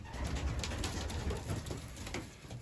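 Racing pigeons cooing at a loft, soft overlapping throaty coos and rustling heard close and steady for a couple of seconds, with no talking.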